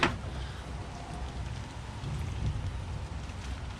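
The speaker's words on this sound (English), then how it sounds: "I'm going to get rained on." Rain falling around an old Morris J2 commercial van, a steady soft hiss of drops with low rumbling texture throughout.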